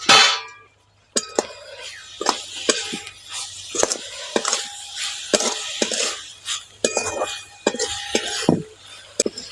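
Grated coconut goes into melting nolen gur (date palm jaggery) in a pan, with repeated sharp clinks and scrapes of a spoon against the metal and soft stirring between, close and irregular.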